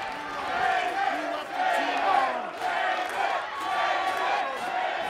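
A wrestling arena crowd roars in reaction to a kick-out, with loud surging cheers and chanting that rise and fall in repeated waves.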